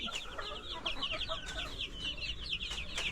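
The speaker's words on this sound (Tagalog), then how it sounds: "So gutom na naman itong mga manok ko na to," Small hungry chickens cluck and chatter continuously at moderate distance, a busy flock sound with no talking.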